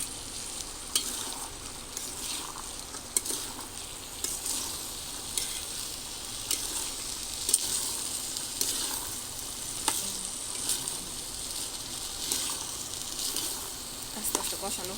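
Chickpeas frying in a pan of spiced masala, a steady sizzling hiss with scattered scraping stirs and small clicks running throughout at moderate volume, no speech.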